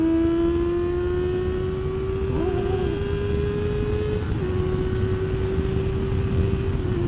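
Motorcycle speeding through a city at night, a loud, steady engine drone with a rising pitch as it accelerates, wind noise constant throughout, no speech.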